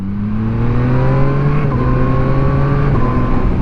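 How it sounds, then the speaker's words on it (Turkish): A Yamaha MT-09 motorcycle with Y-AMT automated transmission drones loudly while riding, and its engine pitch drops in distinct steps as it downshifts through the gears, heard up close and continuous. "Tekrardan şimdi vites düşüreceğim"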